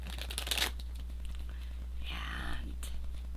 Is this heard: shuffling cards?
yes